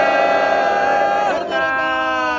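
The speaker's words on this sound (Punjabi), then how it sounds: "ਗੱਜ ਕੇ ਜੈਕਾਰਾ ਗਜਾਵੇ" A crowd of Sikh devotees at Sachkhand Sri Hazur Sahib raising the jaikara war cry during an ardas, a loud sustained chorus of voices shouting together that dips briefly and swells again.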